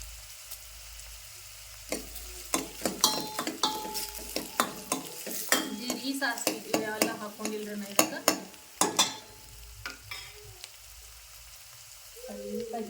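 Onions frying in oil with dried curry leaves, a close sizzle under a busy run of spoon scrapes and clinks against the pan, quieter at the start and end.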